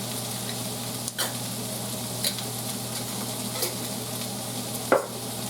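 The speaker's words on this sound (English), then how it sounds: "Now we're going to stir." White bean sausage skillet with red pepper spices sizzling steadily in the pan, with a few distinct scraping stirs of a utensil at irregular intervals, close and with no talking.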